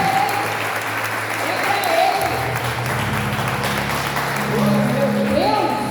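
Congregation at a church service applauding, a steady crowd clapping texture with musical tones and a voice rising and falling underneath, swelling slightly toward the end.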